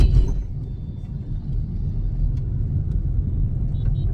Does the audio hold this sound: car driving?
yes